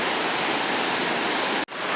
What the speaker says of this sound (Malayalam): അതിൻ്റെ മുകളിൽ നിന്നേ വെള്ളം ഇങ്ങനെ ഒഴുകി വരികയാണ് കേട്ടോ